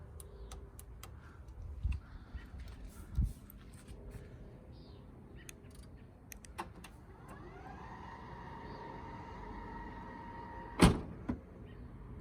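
A 2013 BMW X5 E70 diesel power liftgate driven by its factory remote, with a steady motor whir rising partway through, a few clicks and latch clunks, and one sharp thud near the end as the tailgate seals shut.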